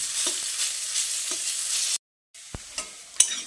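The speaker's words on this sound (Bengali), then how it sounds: "আলুটা দিয়ে খানিকক্ষণ এই তেলের সঙ্গে নেড়েচেড়ে মিশিয়ে নিয়ে 2 মিনিট মতো ভেজে নিতে হবে।" Potatoes fry in hot oil with a loud continuous sizzle and scrape as they are stirred, then after a brief silence, quieter sizzling returns with a few sharp utensil clicks against the pan.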